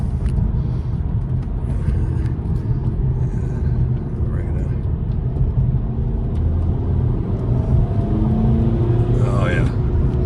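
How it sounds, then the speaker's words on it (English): A tuned VW TDI 2.0 turbo diesel (CKRA) with a Rawtech pipe pulls hard in 4th gear, a steady low engine rumble and whir building with turbo boost, heard from inside the car with a voice talking over it. "I'm gonna stay in that gear and let the turbo boost up there."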